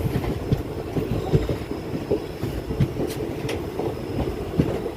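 Passenger train running on rails, a steady mid-level rumble with faint rhythmic wheel clicks and occasional brief high squeals throughout, heard from on board with no talking.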